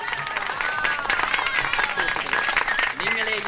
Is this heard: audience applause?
yes